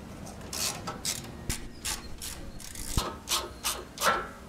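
A ratchet wrench with a long 10 mm socket unscrews bolts on a Fiat Grande Punto radiator. Quick bursts of close ratchet clicking repeat in short runs, with a couple of sharp metallic knocks.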